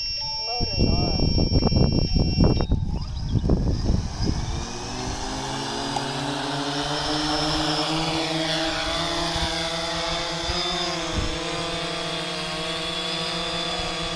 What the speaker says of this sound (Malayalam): നമുക്ക് എന്തായാലും മോട്ടോർ ഓൺ ചെയ്ത് ഒന്ന് ഫ്ലൈ ചെയ്ത് ടെസ്റ്റ് ചെയ്ത് നോക്കാം